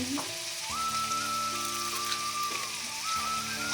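Steady crackling sizzle of onion, chili and soybeans frying in a hot pan over raised gas heat, continuous and close, with a faint tonal hum running underneath.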